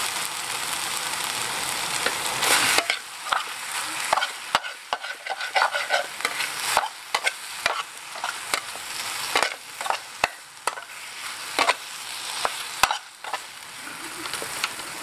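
Spicy Korean-style fried noodles are stirred in a hot pan, with a burst of sizzling followed by a long run of quick, irregular scraping and clattering strokes, close and loud, no one speaking.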